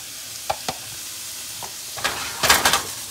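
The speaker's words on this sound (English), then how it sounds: "going to start sauteing our veggies" Onions and peppers sautéing in a pan as vegetables for twice baked potatoes: a faint steady sizzle with a few soft stirring clicks and scrapes, building to louder scraping bursts near the end.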